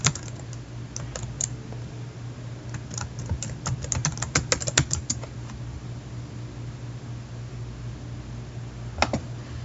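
A burst of clicky keystrokes on a computer keyboard as a password is entered, close and fairly quiet over a steady electrical hum, then a pause and one last key press near the end.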